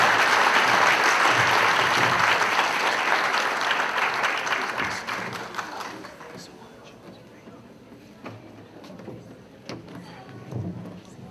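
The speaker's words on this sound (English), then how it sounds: "let's have another round of applause for Deborah Roderick Stark." A banquet hall crowd at a unity dinner breaks into loud sustained applause that gradually thins out into scattered claps and murmurs, with a voice speaking faintly over the fading end.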